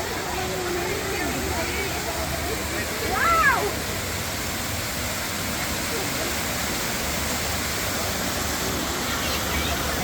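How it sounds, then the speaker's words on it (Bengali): Constant broad rushing of a waterfall at Green Valley Park in Lalpur, Natore, steady and fairly loud, with a brief voice-like sound rising over it partway through. "অনেক সুন্দর ঝর্ণা, কি অপরূপ দৃশ্য"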